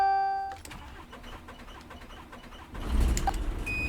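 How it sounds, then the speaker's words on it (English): A Scania Citywide GN14 city bus engine in OMSI 2 starts up, with a starter whir and clicks giving way to a louder low diesel rumble that settles into a steady idle. "Now we'll start this bus up"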